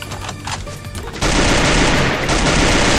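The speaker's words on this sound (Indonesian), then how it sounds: "barbar kali pakai pistol abang jago ini" Gunfire from a pistol in the shooting game Garena Free Fire, starting abruptly after a quieter second and then continuing as a loud, dense barrage of shots to the end.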